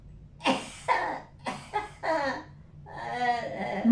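A woman with Alzheimer's coughs during a COVID-era visit at a nursing home. Several short, close coughs and throat-clearing bursts come in quick succession, with a softer, breathy one at the end.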